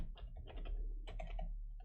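Quick bursts of typing on a computer keyboard, close and fairly quiet, with short clusters of keystrokes separated by brief pauses.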